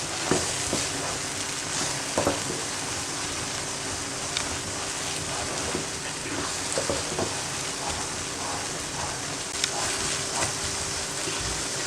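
Bread halwa with sugar and ghee cooking in a pan, a dense continuous sizzle with occasional spoon scrapes and light knocks throughout, no speech.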